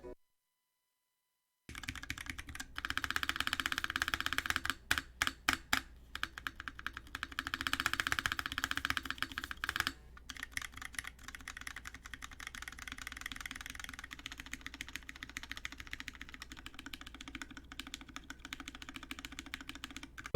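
Rapid bursts of clacking keystrokes on a mechanical keyboard fitted with new switches, close and fairly loud, with dense flurries early on giving way to steadier, lighter typing over a low background hum.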